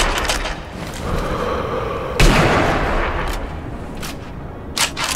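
Sniper rifle fire in a World War II shooter: a single loud, sharp blast with a long rumbling tail, then scattered fainter shots and impacts, with no talk.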